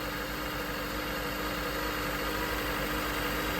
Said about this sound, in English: you can see that the engine is idling rough and jerking